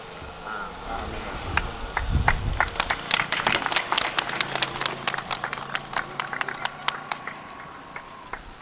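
A church congregation claps at a Lenten campaign launch, with scattered sharp hand claps that quickly thicken into lively, uneven applause over a low crowd murmur before thinning out again.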